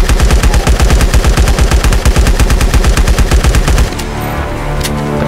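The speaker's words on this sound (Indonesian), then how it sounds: "jadi kalian harus tembak terus tanpa reload" Rapid sustained automatic gunfire from the shooter game LifeAfter, a loud unbroken stream of shots without a reload that stops abruptly, followed by a brief quieter tail.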